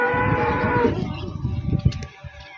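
Cows on a farm at milking time give a loud, drawn-out moo close by, followed by softer grunting lows and shuffling livestock noises.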